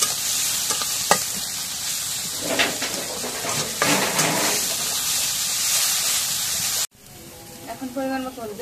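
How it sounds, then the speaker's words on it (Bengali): Chopped onions hit hot oil in a pan and are stirred, giving a loud, close, steady sizzle with scraping stirs, before the sound cuts off and a voice speaks briefly near the end. "এখন পেঁয়াজ কাটা দিয়ে দিই।"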